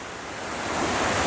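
Waterfall in Meghalaya, a steady broadband rush of falling water heard close and alone, swelling slightly louder toward the end with no voices.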